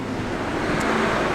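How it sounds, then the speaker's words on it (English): Lorry passing on a road, a steady close roar of engine and tyre noise filling the moment with a broad traffic rumble and no talk. "You're not going to be able to hear me from the lorry."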